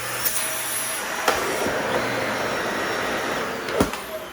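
A Shark vacuum cleaner runs steadily nearby with a continuous whooshing whir, broken by a few brief clunks and rattles.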